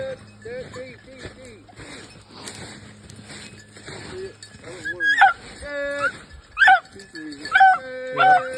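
Beagles on a rabbit hunt in Missouri bark, yip and howl in repeated bursts, louder calls clustering toward the end, with someone speaking over and between them outdoors.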